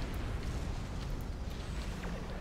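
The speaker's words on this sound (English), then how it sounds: "Oh, warp core explosion rips me apart." A warp core explosion in Star Trek Online: a dense, rumbling blast that roars steadily for a couple of seconds, loud and continuous with a deep low-end roar.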